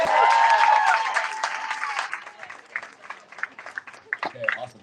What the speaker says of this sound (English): We get one more big round of applause for Nico